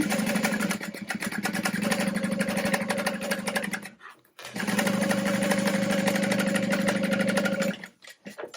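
A sewing machine stitches a half-inch seam on a tote bag lining with a steady, close motor whir and rapid needle chatter, running in two long bursts separated by a short pause.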